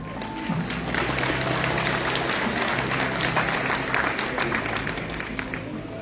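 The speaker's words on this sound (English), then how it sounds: "Let us express our gratitude with a heartfelt round of applause." An audience at a UN Buddhist gathering with messages from national leaders and Buddhist congregations breaks into steady, full applause that holds at an even level throughout, with faint murmurs of voices underneath.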